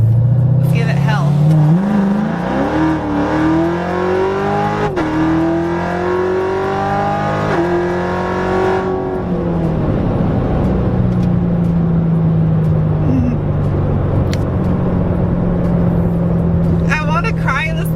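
A supercharged Lingenfelter 2016 C7 Corvette Z06 engine accelerates hard, loud and close, with rising pitch through gear changes in a tunnel, then easing to a lower drone, with talking over parts.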